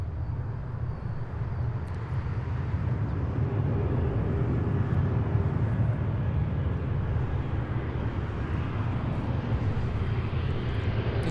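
Airliner roars in on approach to Seattle's runway 34L, a loud, steady broadband jet rumble sustained without pause, with no talking over it.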